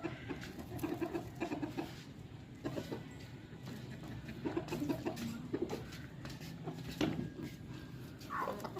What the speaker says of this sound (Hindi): मुर्गियाँ कितनी खुश हो गई है, देखो साग खा रही है।